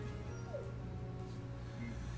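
Dogs in the Kingdom Hearts video game whimper and yip softly, a few short whiny cries over a steady low hum, fairly faint and without talk.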